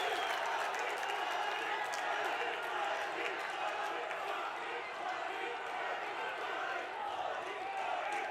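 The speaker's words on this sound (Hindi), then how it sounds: "एक बार जोरदार तालियां माननीय प्रधानमंत्री श्री मोदी जी के लिए।" A large crowd claps loudly and continuously at a public event welcoming the Prime Minister in Dehradun, a dense, sustained wash of applause close by with a few louder individual claps standing out.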